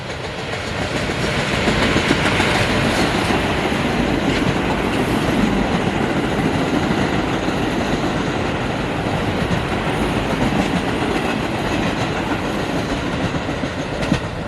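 A New York subway train rumbles past nearby, steady loud roar with rhythmic wheel clatter on the tracks, continuing for the whole stretch without any voices.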